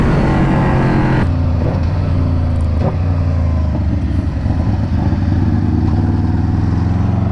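An Aprilia RSV4 sportbike fitted with a 520 chain and sprocket, its engine droning steadily and loudly in a low gear, the sound shifting as the throttle changes while riding.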